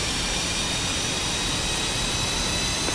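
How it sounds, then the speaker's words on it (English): A jet engine in the DCS flight simulator game settles toward idle RPM, giving a constant, dense roar with a faint high whine held steady throughout, no voices. "When the throttle is set to the idle position, fuel is supplied to the engine and will reach idle RPM within 35 seconds."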